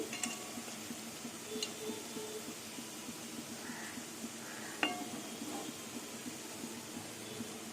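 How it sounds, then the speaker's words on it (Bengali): Fritters of pointed gourd (potol) fry in oil with a faint, steady sizzle, while a utensil stirs and clinks now and then against the pan. "বড়াগুলো এরকম লাল লাল করে ভেজে নেব"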